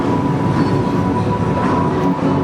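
Roller coaster trains at the Phantasialand station and transfer track area in Germany, heard as a steady rumbling, mechanical rolling hum with a faint tonal whine, continuous and fairly loud throughout.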